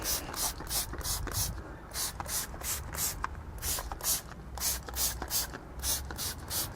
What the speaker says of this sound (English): obviously spray from different angles